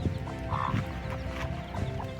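A hen clucking close by, a few low throaty clucks and a brief rising squawk over a busy background.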